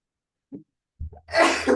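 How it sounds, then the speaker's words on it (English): A single sharp sneeze bursts out after a quick intake of breath, close and fairly loud in an otherwise quiet space. "Hang on, I'm gonna sneeze."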